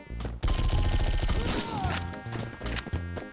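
Rapid AK rifle fire in a Call of Duty-style browser shooter game, loud dense bursts of shots with impact crashes, nearly continuous over a few seconds with no talking.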